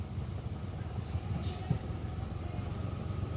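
A Mitsubishi Mirage engine idling around 1000 RPM after being started, a steady low rumbling drone with a faint rhythmic pulse, close and continuous, with no speech.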